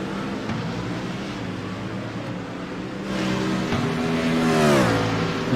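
Race car engines roar in iRacing at Spa-Francorchamps, a BMW CCA club eSports event, with a steady loud drone of several cars and pitch sweeps up and down as one revs and shifts near the end, no talk.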